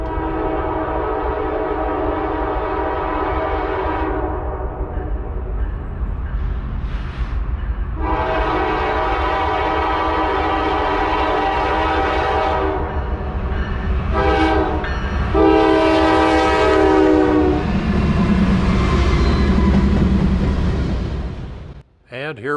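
A Norfolk Southern freight train passes a road crossing in Soddy, Tennessee, sounding long, loud horn blasts over rumbling wheels and cars rolling by, close and continuous.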